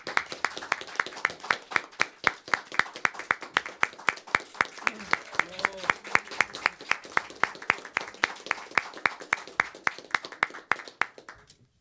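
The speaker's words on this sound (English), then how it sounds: "So let's welcome him with a big round of applause." At a conference, the audience welcomes the moderator with rhythmic, synchronized clapping, sharp evenly paced claps repeating for about twelve seconds, with a voice briefly audible partway through.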